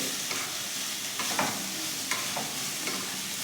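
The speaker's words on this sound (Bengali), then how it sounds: "এবার এটাকে ভালো করে মিশিয়ে নেব আর ভাজবো পেঁয়াজের সাথে" Chicken frying with onions in a pan, stirred with a utensil; a continuous loud sizzle with repeated scraping strokes of the stirring, no voices.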